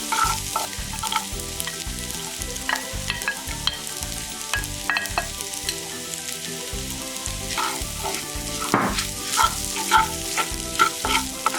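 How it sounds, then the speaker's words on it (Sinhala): Fried chicken pieces are stirred through a sizzling pan for chicken pasta. A steady, loud sizzle runs throughout, with a regular scraping and clattering rhythm from the stirring utensil and no voices. "ඊළඟට අපි මේකට fry කරගත්ත චිකන් ටික එකතු කර ගන්නවා."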